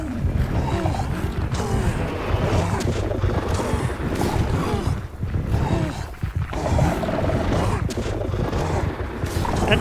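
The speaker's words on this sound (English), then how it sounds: "That sound beam really is something." A dense, roaring, distorted blast from the Minecraft Warden's sound beam attack in a mob battle against giant kaiju, a continuous loud rumbling wash lasting several seconds with brief dips in intensity.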